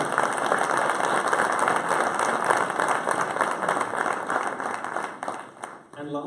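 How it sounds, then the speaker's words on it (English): A crowd at a live memorial show applauds the volunteers of the region, with sustained, dense clapping that stays loud and steady for about six seconds before briefly dipping near the end. "So a big round of applause to the YAs of the region."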